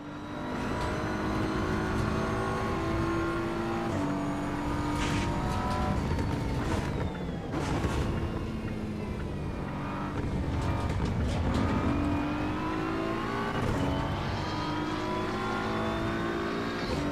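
A Ferrari race car engine in the Assetto Corsa EVO racing game roars loudly and continuously, climbing in pitch through the gears with repeated upshifts and lifts, heard alone without talk.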